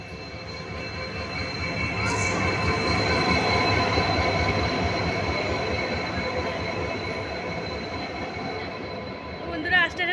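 A train pulls into a station with a long rumble of rolling railcars and squealing wheels, loud and close, easing off toward the end.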